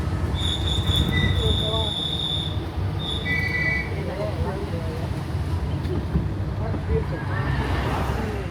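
A small tourist train rolls through Noumea, New Caledonia, with a steady rumble and high squealing wheel tones early on, while someone talks over it and children's voices rise in the background.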